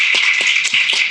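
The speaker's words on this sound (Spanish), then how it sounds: "un aplauso también, por favor" A live comedy festival audience gives a short burst of applause, with close, bright clapping that is dense and continuous, punctuated by a few sharper individual claps.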